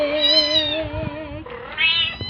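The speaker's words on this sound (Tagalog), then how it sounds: "Diretso sa mga pusa." Cats meow close by, one long drawn-out cry followed by a second shorter, higher meow, clear and fairly loud with little else around.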